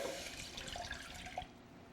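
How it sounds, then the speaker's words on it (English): Water poured into a pot in a kitchen while making cream puff dough, a soft continuous stream with faint splashes, fairly quiet and steady before tapering off. "first of all, we need to pour the water."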